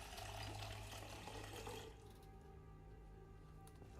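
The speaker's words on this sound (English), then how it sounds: "Water dispenser, fill," In the Project Zomboid video game, a plastic bottle fills at a water dispenser: a loud rush of pouring water that cuts to a quieter trickle partway through, heard alone with no talk.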